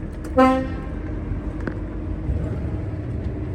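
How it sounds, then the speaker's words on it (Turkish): A single short car horn toot near the start, loud and close, followed by low traffic rumble on an Istanbul street. "Şuradan bir korna basmam lazım."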